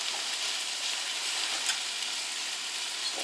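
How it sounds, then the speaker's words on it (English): Cattails frying in hot butter in a pan, a steady bright crackling sizzle with small pops, close and unbroken. "I want them to really sizzle."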